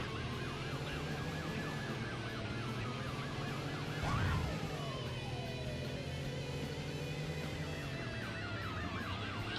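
A police siren in the video game Runabout 3: Neo Age wails up and down continuously over a rumbling engine and busy background noise, with a brief loud whoosh partway through.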